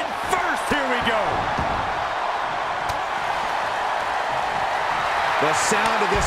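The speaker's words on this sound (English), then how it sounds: "The sound of this crowd is deafening, and he's asking for more." A wrestling crowd roars in a dense, sustained wash of noise that fills an indoor venue, with a few sharp thuds and whoops breaking through and a voice shouting over the din.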